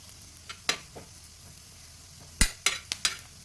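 Grated coconut is dry roasted in a pan, giving a faint low hiss with sharp spatula scrapes and knocks, sparse at first and then a quick cluster of strokes near the end.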